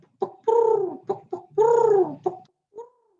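A human voice imitates a pigeon's coo in a few rounded, warbling phrases, close and fairly loud, with short pauses between them.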